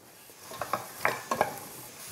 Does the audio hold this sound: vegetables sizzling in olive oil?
yes